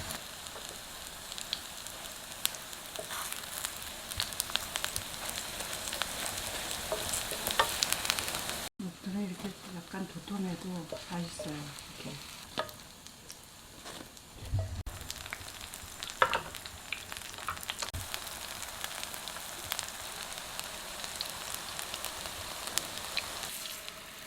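Battered Korean jeon pancakes pan-fry in oil with a constant soft sizzle and crackle close by, briefly interrupted midway by quieter handling sounds, with no talking.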